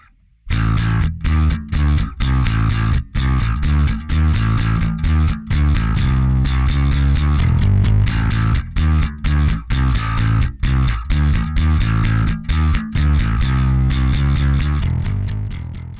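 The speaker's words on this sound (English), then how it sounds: "full-on fuzzy tone perfect for solos or extra gritty bass lines." Thick, fuzzy bass guitar through a Lusithand Ground & Pound distortion pedal, playing a steady riff of sustained notes, loud and continuous with a gritty, saturated edge.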